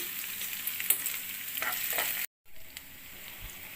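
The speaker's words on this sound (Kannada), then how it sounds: "ನೋಡಿ ಈಗ ಈರುಳ್ಳಿನ ಫ್ರೈ ಮಾಡ್ತಾ ಇದ್ದೀನಿ" Onions fry with garlic in a pan for an okra stir-fry, a close, continuous sizzle dotted with light utensil scrapes, briefly cutting out midway before resuming.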